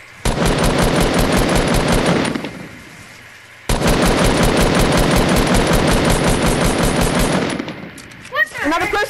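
Rapid automatic gunfire from a Fortnite match, two long loud bursts of fast shots separated by a brief pause, followed by a short trailing sound at the end.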